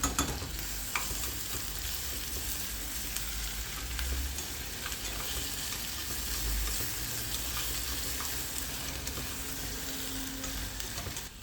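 Onion, carrot, celery, garlic, cardamom and whole peppercorns sautéing in a pan, giving a steady close sizzle and crackle with soft stirring scrapes and occasional low knocks, no talking.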